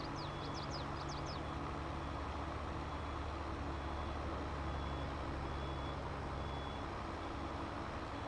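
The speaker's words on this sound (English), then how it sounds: "I hear beeping. I don't know where it's coming from." A quick run of reversing-style beeps sounds in Farming Simulator 22, a short chirping series near the start over a constant low engine and ambient drone that runs through the rest of the scene.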